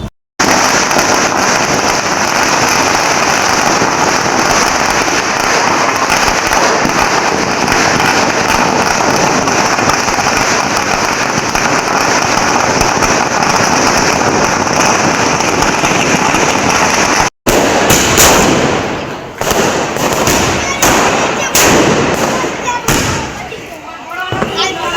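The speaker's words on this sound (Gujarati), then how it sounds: "પછી તો ગોઠવી નાખી 5000 વાળી 4 લાઈન. જોઈ લો, હવે તો થવાના ધડાકા ને ફડાકા" Diwali firecracker strings, four lines of 5000 crackers, exploding in a dense, loud, continuous crackling barrage for about seventeen seconds, then a brief gap followed by scattered sharper bangs and pops.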